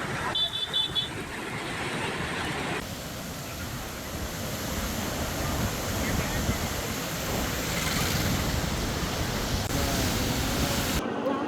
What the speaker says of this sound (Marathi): आता आपण पाहतोय पुण्यामध्ये जोरदार पावसाला सुरुवात झालेली आहे